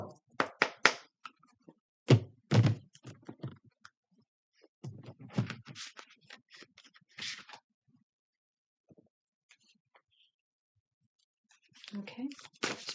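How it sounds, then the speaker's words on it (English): A Priestess of Light tarot deck is shuffled close by in quick papery bursts and taps, broken by quiet pauses and a few softer handling sounds near the end. "I'm only going to shuffle this a couple of times because I did pre-shuffle this deck."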